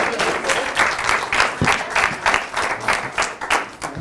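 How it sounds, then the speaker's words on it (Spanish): Loud applause from a group of secondary school students in a studio show, with individual claps audible in an uneven, pulsing rhythm that swells and dips throughout. "Un aplauso para vosotros."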